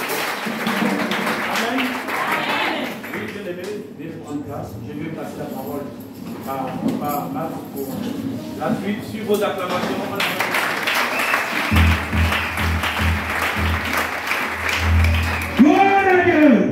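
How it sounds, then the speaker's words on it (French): Pentecostal seminar congregation in a church hall applauding and cheering continuously for about seventeen seconds, with voices shouting and talk mixed throughout at a steady, fairly loud level. "Est-ce qu'on peut acclamer pour le ressuscité?"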